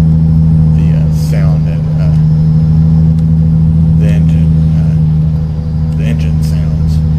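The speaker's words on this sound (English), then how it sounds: "the engine sounds through the exhaust pipes. Very realistic." A truck engine in Euro Truck Simulator 2 drones steadily through its exhaust pipes at around 120 km/h, a loud, low, constant hum with someone talking briefly over it.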